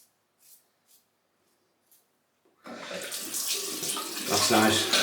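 Tap water gushes steadily into a sink for a post-shave rinse, starting abruptly after a few faint clicks and splashes, then running loud and close until the end.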